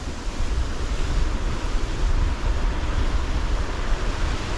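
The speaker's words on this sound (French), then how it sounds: "les vagues sont de plus en plus grosses" Continuous roar of large ocean waves breaking on rocks along a fishing shore, loud and broadband with wind buffeting the microphone, no talk.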